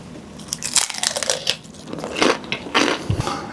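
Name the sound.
biting into crispy baked meat börek pastry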